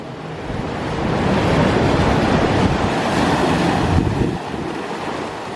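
Ocean waves break on a California shore, a loud, continuous roar of surf with heavy wind buffeting the microphone and no talk.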